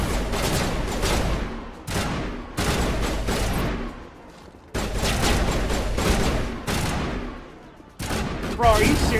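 Heavy automatic gunfire fills a Mass Effect firefight, loud sustained volleys that break off briefly and resume in several long bursts.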